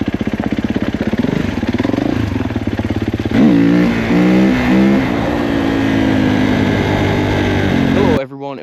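A 2021 Kawasaki KX450 dirt bike engine revs loudly and close on a rocky trail, rising and falling in repeated throttle blips before cutting off abruptly near the end.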